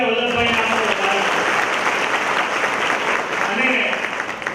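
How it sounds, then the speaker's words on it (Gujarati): Loud, dense applause fills the room at a family get-together honouring a guest, a crowd clapping steadily for several seconds without letting up. "જોરદાર તાળીઓથી વલ્લભભાઈને આપણે વધાવીએ."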